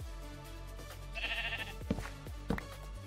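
Sheep in Minecraft bleat in short, wavering calls over steady background game music, with a couple of sharp knocks near the end.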